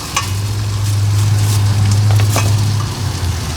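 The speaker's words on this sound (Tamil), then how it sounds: "நீங்கள் ஒனியன் நல்லா கோல்டன் கலரில் இந்த ஸ்பைசஸ் எல்லாம் சேர்ந்து இப்படி நல்லா ஃப்ரை பண்ணணும்" Onion and spices frying in a pan until golden, giving a loud continuous sizzle with a low hum beneath and a few soft scraping stirs.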